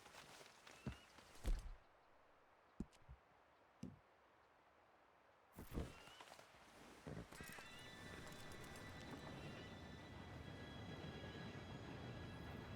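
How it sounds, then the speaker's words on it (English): Approaching train in Red Dead Redemption 2, a steady rumbling roar that builds and holds from the middle of the clip onward, preceded by quiet scattered thumps and horse clip-clop. "Train should be here any minute now."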